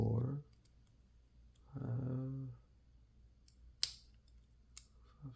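Lock pins click faintly while a lock is picked during a lockpicking challenge; after short bursts of speech, a couple of small, sharp, isolated clicks sound close by in a quiet room.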